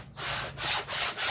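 A cylinder head is rubbed diagonally corner to corner across an abrasive surface for resurfacing at home, giving a few rhythmic scraping strokes, close and fairly loud.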